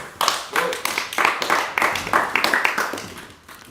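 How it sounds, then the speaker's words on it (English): A small audience gives a thin, scattered round of clapping, a few uneven hand claps in loose succession, fairly close and quickly fading. "That was like the flaccid clap"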